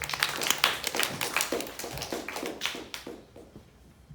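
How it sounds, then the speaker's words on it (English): An audience applauds, a steady patter of clapping hands that fades out over a few seconds. "Give them a round of applause."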